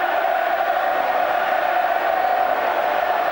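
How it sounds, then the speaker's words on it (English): A packed stadium crowd roars during a Bristol versus Bath rugby match, a continuous loud wall of cheering with no break. "listen to the crowd"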